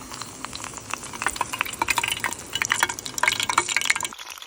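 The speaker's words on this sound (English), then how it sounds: "Drop it straight in the oil." Oxeye daisy flowers coated in tempura batter fry in hot oil, giving a close, busy crackle and sizzle of popping bubbles that runs steadily for a few seconds.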